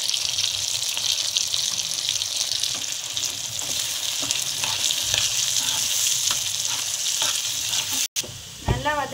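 Soaked garlic sautéing in oil in a pan for garlic thokku pickle, a loud, dense sizzle with stirring scrapes, steady and close, cut by a brief gap and knock near the end.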